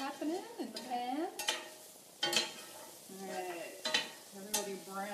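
Onions sautéing with turnip in a frying pan, sizzling steadily while a spatula stirs and scrapes in several sharp bursts; a person talks over the cooking at intervals.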